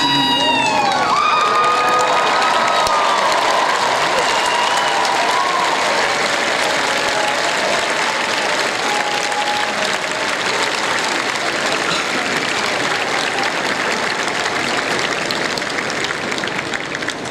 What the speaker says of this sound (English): give your loved ones a round of applause